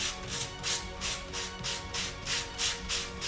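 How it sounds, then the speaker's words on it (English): Steady back-and-forth strokes sanding a leather piece rasp at an even rhythm, about three per second, close and fairly quiet, with no voices. "I used to do like this, sanding them a little bit, sanding this a little bit"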